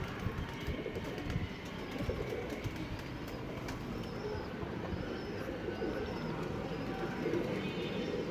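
Pigeons kept on a home rooftop coo softly and steadily through a dense outdoor background, their low murmuring voices continuous rather than separated into distinct calls.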